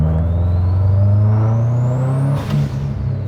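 A loud Subaru WRX STI engine revs steadily while driving, with a rising whine, briefly dipping as the gear shifts, then pulling again close by.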